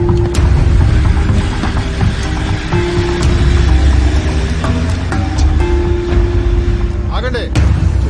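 Buses heading toward an ashram rumble past with a steady low engine drone and a few sharp knocks, close and continuous throughout.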